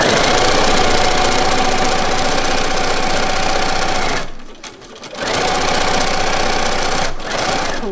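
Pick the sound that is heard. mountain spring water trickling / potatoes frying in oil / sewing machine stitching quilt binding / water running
sewing machine stitching quilt binding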